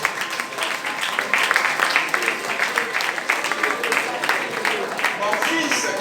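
A church congregation applauds and acclaims a returning son, steady mid-distance clapping and cheering throughout with a voice talking over it.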